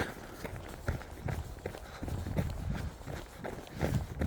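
Quick, regular footfalls of someone running, crunching on snow, close by with a rough, windy background in cold, snowy weather.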